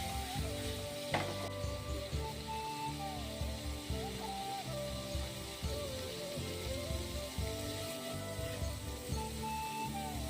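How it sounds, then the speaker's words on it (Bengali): Spice masala sizzling and frying in a pan with a little water, a soft steady crackle close by, with faint tonal background sounds running underneath. "তারপর দিয়ে দেব কিন্তু একটু পরিমাণে জল দিয়ে মশলাগুলো একটু ভালো করে কষিয়ে নেব।"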